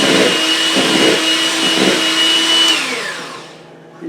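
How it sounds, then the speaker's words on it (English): An electric hand mixer whirs loudly as it beats cream cheese in a bowl, its motor pitch dipping rhythmically under load, then spinning down to a stop. "We're going to mix this up with the mixer and make sure it gets really well mixed up."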